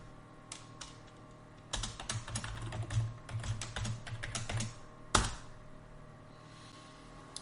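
Computer keyboard keys tapped in short irregular bursts at close range while a password is entered during a Plexus Lab software installation, with brief pauses between runs of keystrokes and no talking.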